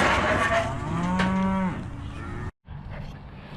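Cattle moo at a summer pasture where heifers and a bull have just been brought in; one long, loud, close moo rises and falls, followed by a brief gap and low background noise.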